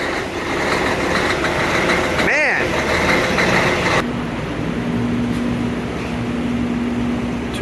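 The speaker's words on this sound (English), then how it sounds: "Here's a cold start this morning, 20 degrees out." Truck engine idling just after a cold start on a 20-degree morning, a steady low rumble with a constant tone under a man's brief words and wind noise.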